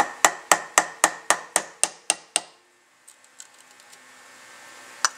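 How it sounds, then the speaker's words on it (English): A hammer taps a metal carburetor bowl with a cork gasket seal on an old Buick, about ten sharp ringing strikes in quick even rhythm, then quieter small clinks and handling noises. "I'll take a hammer and just tap, just constantly tapping"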